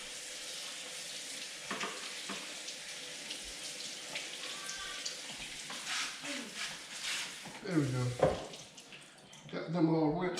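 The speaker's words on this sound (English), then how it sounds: "Let me rinse them off my grapes real quick." Tap water runs into a sink as grapes are rinsed for homemade wine, making a soft steady splashing with clattering bursts as the fruit is handled. Someone talks briefly near the end.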